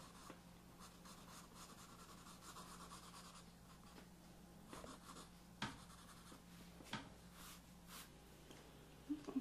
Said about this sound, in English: Now with your pencil, I'm going to give it a little shade on each side.